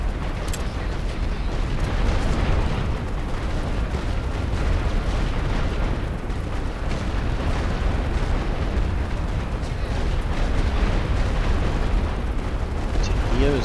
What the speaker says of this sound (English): Here as well, just keep hitting it with the artillery.